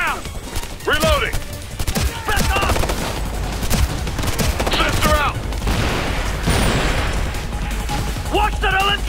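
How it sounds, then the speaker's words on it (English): Light machine gun fire during a firefight in Ghost Recon Future Soldier, with sustained crackling bursts and scattered shots running through the clip while squad voices shout over them. "Loud machine gun!"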